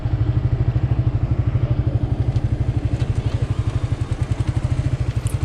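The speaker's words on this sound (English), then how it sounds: "that's me messing up my gears by the sound of it. Trying to move her off in third or fourth" A motorcycle in Vietnam being moved off in third or fourth gear, its engine thumping in a steady rapid low chug with faint clattering and mechanical strain, close and loud throughout.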